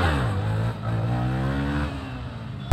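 A Yamaha R15 motorcycle in first gear revs hard toward 6000 RPM for a wheelie, a loud, steady engine whine with rising harmonics that holds close for nearly three seconds before a brief sharp burst at the end.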